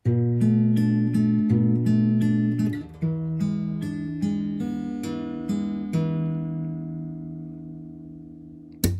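Guitar strums and picked notes play the closing chord of a song, the chord struck repeatedly and left ringing out to a fade, clear and close with no talking.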